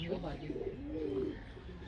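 Soft, low pigeon coos rise and fall over a couple of seconds, close by, with some faint background murmur.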